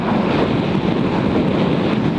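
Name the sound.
strong wind on the microphone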